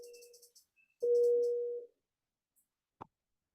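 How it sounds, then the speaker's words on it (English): A steady electronic emergency alarm beep tone rings indoors in two sustained bursts, the second louder and about a second long, followed by a brief sharp click; no talking. "there's an emergency beep going on here"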